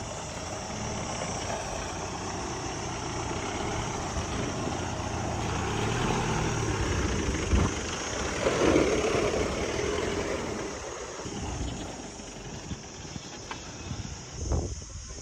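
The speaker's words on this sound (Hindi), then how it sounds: "अब हमारी बोलेरो तो यहाँ से निकल जाएगी" A Mahindra Bolero 4WD engine labouring as it drives over dug-up ground, a steady droning rumble heard alone that swells slightly in the middle with a few bumps and knocks.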